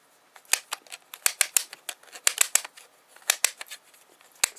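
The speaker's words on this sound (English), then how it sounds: "See, you can see it and hear it clicking on the pawl." A model diesel engine's recoil starter being wound up gives off a run of sharp, irregular clicks as it ratchets over the pawl, close and fairly loud with brief gaps between bursts and no talking.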